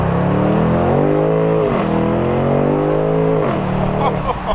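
BMW 8 Series with an engine of over 500 horsepower accelerating hard from a start, loud and close, with rising revs broken by two quick upshifts as the pitch drops and climbs again.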